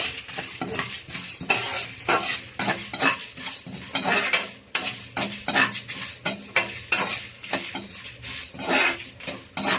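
Whole dried red chillies and spices roasting in a dry pan for ash gourd sambar powder, stirred with a metal spoon in steady scraping, clinking strokes over a light sizzle, close and fairly loud.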